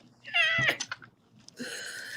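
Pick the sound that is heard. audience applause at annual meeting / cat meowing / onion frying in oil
cat meowing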